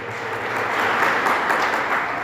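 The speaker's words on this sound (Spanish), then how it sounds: "Dale fuerte ese aplauso a Jesús." A church congregation claps together in sustained, dense applause during a sermon, a steady loud wash of hand claps filling the room.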